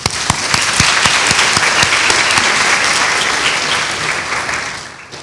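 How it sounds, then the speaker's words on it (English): Loud, dense applause from an audience greeting pharmacy graduates at a white coat ceremony, with sharp individual claps standing out near the start before the clapping holds steady and tapers at the end. "you can give yourselves a round of applause"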